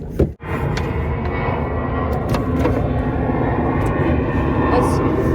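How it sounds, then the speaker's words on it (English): A fixed-wing airplane drones steadily overhead beside water during a flathead fishing trip, a broad continuous rumble that holds loud from start to finish after a brief dip near the beginning. "Sorry about the plane."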